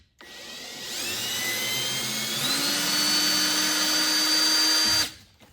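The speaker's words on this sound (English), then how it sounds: "Now I'm going to put this back in my drill." A power drill with a nut extractor bit removing a stripped nut spins up and whines steadily at high pitch for several seconds, then stops abruptly; close and fairly loud, no talking.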